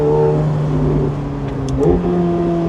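A McLaren 750S engine and exhaust idle close by with a deep, steady drone that swells slightly as the revs shift while warming up.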